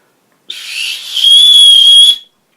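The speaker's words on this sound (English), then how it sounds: "Whistles. It still whistles." A small survival whistle is blown once, a shrill piercing tone held for under two seconds, loud and close with a breathy start.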